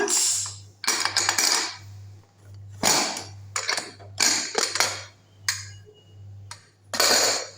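Metallic clanks and scrapes as a pressure cooker lid is worked open after the steam is released, several bursts of clatter over a low steady hum.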